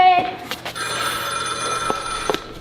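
A telephone bell rings in a house, a sustained ring lasting most of the moment with a few knocks and clicks over it, fairly close and clear.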